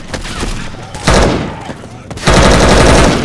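Loud sustained rifle gunfire from Left 4 Dead 2, continuous rattling bursts that surge in two waves, with a voice speaking amid the shooting.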